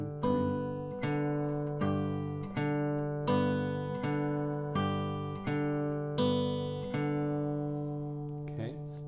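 Acoustic blues guitar fingerpicking: a steady alternating bass pattern with added treble notes plucked on the beats, repeating evenly in close, clear strums of pinched strings, with no talking.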